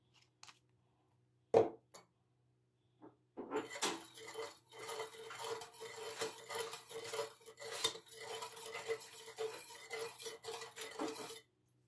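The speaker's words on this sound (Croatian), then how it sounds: "sve dobro izmiješajte" A liquid mixture with dissolved yeast being stirred well in a container, a close run of continuous scraping and clinking strokes after a few isolated knocks, steady and fairly loud for most of the stretch.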